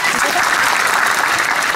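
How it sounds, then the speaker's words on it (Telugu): An audience claps steadily and densely in a continuous loud burst during a temple discourse at the Akkakonda Lakshmi Narasimha Swamy Kalyanam. "చప్పట్లు కొట్టండి."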